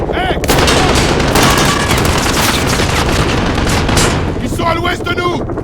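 Loud, dense automatic gunfire from a mounted machine gun rattles nonstop in a Call of Duty: Modern Warfare battle, layered with explosions and battlefield noise, with shouted voices mixed into the chaos.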